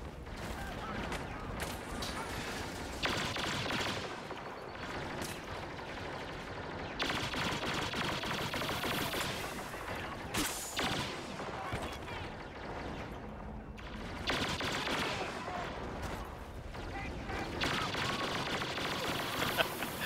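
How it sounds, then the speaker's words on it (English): Rapid blaster fire from a droid in Star Wars Battlefront crackles almost nonstop in dense volleys, with bursts overlapping throughout a busy battle soundscape and voices occasionally speaking under the shooting. "I hear the droid shooting."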